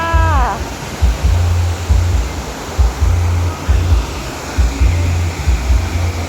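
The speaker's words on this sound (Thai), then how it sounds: "น้ำตกตาต้นค่ะสวยๆค่ะเพื่อน ๆ มาชมบรรยากาศนะคะ" Tat Ton waterfall in Chaiyaphum, Thailand, pouring water as a steady broadband rush throughout, with recurring low wind buffeting on the microphone and a short tonal sweep at the start.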